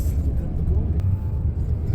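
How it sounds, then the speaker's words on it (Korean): A low, steady engine rumble fills the whole stretch, droning continuously from close by with a faint click partway through. "다시 버스를 타고"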